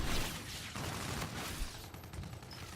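In Infinite Warfare, an automatic rifle fires rapid, dense bursts of gunfire at moderate loudness. The shots crackle continuously for a few seconds.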